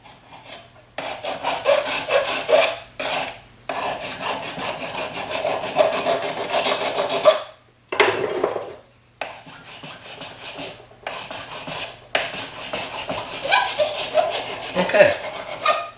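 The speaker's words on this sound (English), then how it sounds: "So I'll file this first, and then I'll sand it" Filing on a sterling silver pendant piece: steady rasping strokes in several bursts separated by brief pauses, close and fairly loud, with no talk.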